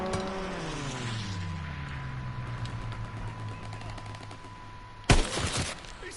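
A single sharp sniper-rifle blast from a PS4 shooter game cracks out loudly near the end, after a long stretch of steady engine-like drone and background game noise.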